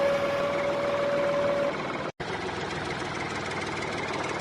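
A tractor engine from a farming video game runs in a steady, unbroken drone with a faint tone at the start and one brief dropout partway through.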